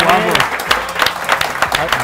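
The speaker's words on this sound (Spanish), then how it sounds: "Ahí está, un aplauso." Studio audience applauding during a Spanish NBA basketball talk show, a dense burst of clapping with a few cheers, close and loud, while a host keeps talking over it.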